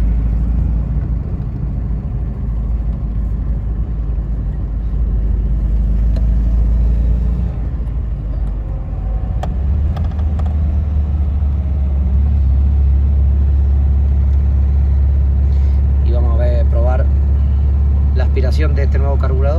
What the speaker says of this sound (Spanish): Saldremos ya en segunda. A ver si nos dejan acelerar.